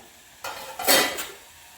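Greens (keerai) drop into a hot pan and are stirred, a short burst of sizzling and scraping that rises sharply, peaks briefly, then settles within a couple of seconds.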